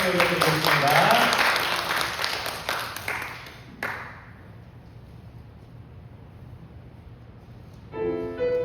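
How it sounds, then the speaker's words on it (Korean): A church congregation at a Sunday afternoon praise service bursts into loud applause that swells, then tapers off and stops abruptly, leaving quiet room tone before a soft keyboard tone enters at the end. "하나님께 영광의 박수 올려드리겠습니다."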